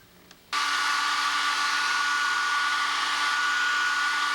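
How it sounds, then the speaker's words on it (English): After a brief quiet moment a hairdryer switches on and blows continuously with a loud, steady whooshing whine. "You can put it in an oven, but you can use a hairdryer."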